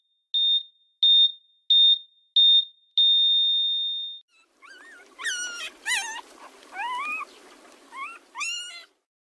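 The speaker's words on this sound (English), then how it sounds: "waiting for that first puppy to cry before it is too late" A newborn puppy delivered by C-section gives high, wavering squeaks and cries, close and alone, after five short electronic beeps and one longer tone.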